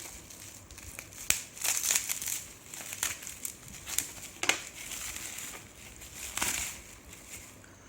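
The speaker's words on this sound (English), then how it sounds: "I'll open the bubble wrap also." Bubble wrap is pulled open around a Teewe 2.0 HDMI streaming stick, giving close, irregular crinkling and crackling with sharp pops and rustles.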